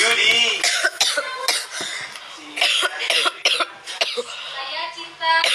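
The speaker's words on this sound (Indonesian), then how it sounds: "Batuk-batuk." A child coughs repeatedly in short, sharp bursts close to the microphone, with brief spoken sounds between the coughs.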